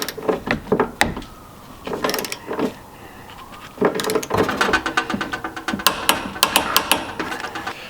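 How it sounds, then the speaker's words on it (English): A torque wrench tightens trailer hitch bolts on a Ford Fiesta ST, giving a series of close, sharp metallic ratcheting clicks and clunks in irregular bursts, busier toward the end. "I'm just going to set my torque wrench here, and then we can go ahead and torque these down"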